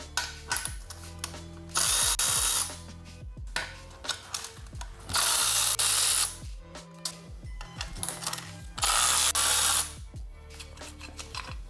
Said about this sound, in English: So all we're gonna have to do is remove these 3 bolts here.